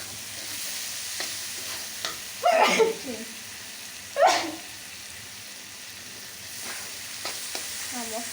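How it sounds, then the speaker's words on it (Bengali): Spice masala cooking down in a pan for chicken curry gives a steady low sizzle, broken by a few sharp spatula scrapes and stirring strokes, close and fairly quiet. "প্রায় আমার মশলা কষানো হয়ে গিয়েছে"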